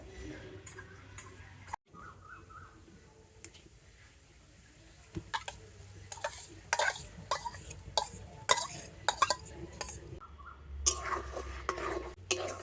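A spatula stirs watermelon rind paste in a kadai on the stove, giving light intermittent scrapes and metallic clicks against the pan, close and fairly quiet.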